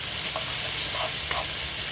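Garlic sizzles and fries steadily in a hot pan, a continuous close hiss with faint stirring scrapes, no voices.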